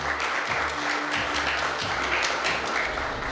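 Crowd applause honouring a martyr's family, a thick, steady roar of many hands clapping at moderate loudness with a low hum underneath.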